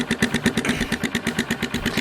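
A Honda CB125E motorcycle fitted with an IXIL aftermarket exhaust idles close by, a steady, loud, evenly pulsing thump of about seven beats per second. No voices are heard.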